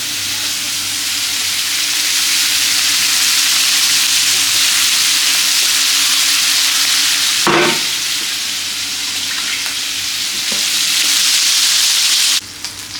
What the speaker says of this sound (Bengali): সব মাছগুলোই দিলাম একসাথে, একবারে ভাজা হয়ে যাবে